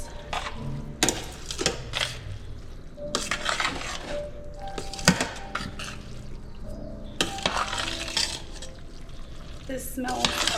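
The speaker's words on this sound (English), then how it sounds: "We're also gonna put a greedy handful of cheese. And stir, you guys." A greedy handful of cheese gets stirred into a dish in a pan, with repeated scraping and clattering strokes of the utensil against the pan over a steady cooking hiss and faint background voices.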